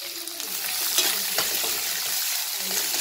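Onion fries with whole spices, peppercorns, bay leaf, star anise and black cardamom, in a pan, giving a steady close hiss of hot oil with a few soft stirring scrapes.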